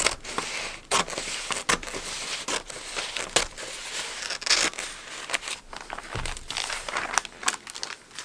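Scissors cut through gift wrapping paper along a dotted line, giving a run of crisp, crinkly snips and rustles at close range, with no talking.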